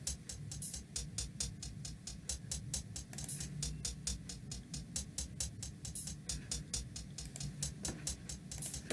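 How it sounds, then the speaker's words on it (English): Quiet hi-hats in a chill guitar beat made in FL Studio, with delay and panning applied: a rapid, steady stream of crisp ticks over a soft low bed, repeating in a tight groove. "So these are the hi-hats."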